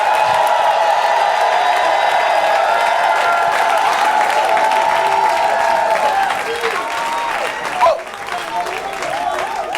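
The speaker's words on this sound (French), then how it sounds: "Allez, poussez des cris de joie." A church congregation applauds loudly and shouts for joy. Sustained clapping, cheers and whoops fill the room for the whole stretch, with a brief sharper peak near the end.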